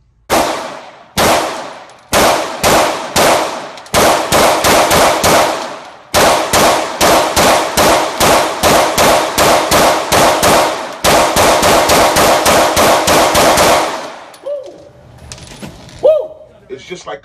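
A rifle is fired rapidly to empty its magazine, with loud, close volleys of sharp shots in bursts separated by brief pauses, followed by a few tinkling casing sounds as the firing stops.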